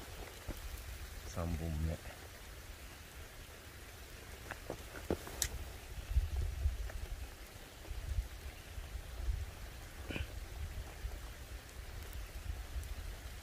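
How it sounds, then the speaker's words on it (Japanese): Rain falls steadily outdoors, a soft continuous patter with scattered louder drops, while a voice speaks briefly over it. "もう雨だからさ。"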